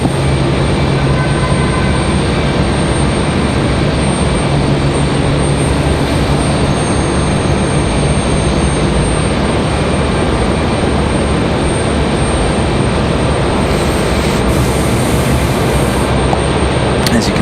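Jet airliners, including an American A321, a Delta jet and an Alaska Airlines plane, taxi at Raleigh-Durham International Airport in stormy weather. A loud, steady, unbroken roar fills the whole stretch.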